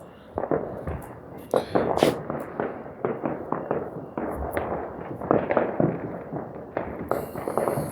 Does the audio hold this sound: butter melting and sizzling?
no